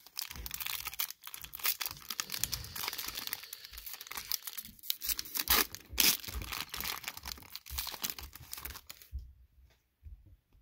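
A Pokémon Shining Fates foil card pack is torn and crinkled open up close, giving dense, rapid crackling and ripping for about nine seconds before it stops abruptly.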